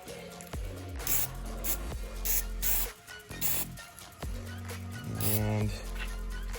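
An aerosol spray can lays a patina paint coat on an RC crawler body in short hissing bursts with pauses between, close by, while someone talks intermittently.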